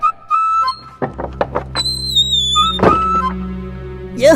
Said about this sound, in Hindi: और किसी ने दरवाजा खटखटाया।